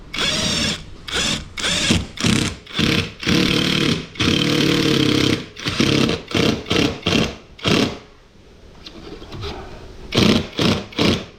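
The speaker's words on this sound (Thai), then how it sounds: "เจาะรูอีกสามขาแล้วมาทำแบบเดียวกันนะ" Repeated bursts of a loud power drill drilling holes to fit a car roof rack, each whirring for about a second, with short pauses between and a brief quieter stretch midway.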